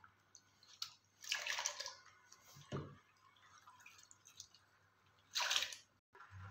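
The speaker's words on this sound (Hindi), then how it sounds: "इसलिए हम इन्हें 3 बार साफ़ पानी से धो लेंगे" Raw potato slices for chips are rinsed by hand in a bowl of clean water, making quiet sloshing and dripping with a couple of louder splashy swishes and soft squishy handling between them.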